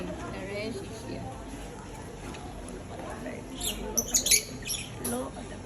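Pet lovebirds squawk and chirp in a short, shrill burst in a home with parrots, fairly close and partly under steady background noise and a faint voice.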